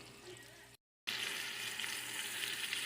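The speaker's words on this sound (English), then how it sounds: "get them frying in a little bit of oil" Meatballs fry in a little oil, giving a close, steady crackling sizzle that cuts out for a moment and then resumes more loudly.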